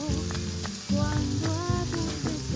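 Onions frying in a pan for egg fry, with a steady close sizzle underneath and bright crackling pops recurring at intervals, no talking.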